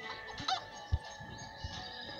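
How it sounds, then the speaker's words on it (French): Cartoon chickens in the farming game Hay Day cluck and squawk in short, faint bursts when tapped, over soft game music. "toucher une poule, puis toucher deux fois le bouton accéléré"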